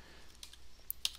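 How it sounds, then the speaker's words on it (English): A few soft, quiet keystrokes on a computer keyboard, sparse and irregular taps over a faint background hum with no talking. "we're going to type in"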